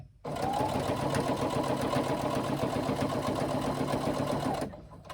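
A sewing machine runs steadily for about four and a half seconds, stitching a 3/8-inch seam on a carry-all tote bag, with a continuous close mechanical whir that starts abruptly and stops cleanly.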